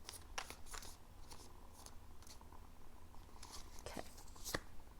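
Tarot cards are shuffled by hand, faint crisp riffling and slapping in irregular bursts close up in a quiet room.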